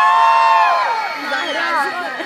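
A large audience of people over twenty shouts together at once in a live competition crowd, a loud burst of cheering and whooping that swells and then trails off in scattered yells.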